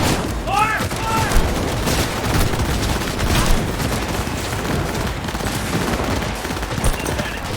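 A dense, loud firefight in Cyberpunk 2077, with machine-gun bursts and shots rattling nonstop along with booming impacts, and a brief shout near the start.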